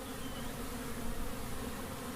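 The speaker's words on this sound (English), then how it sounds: "I'm just going to show you how powerful this hive is, how many bees are in here." A dense swarm of bees from a strong Long Hive buzzes in a thick, continuous drone, close and even throughout.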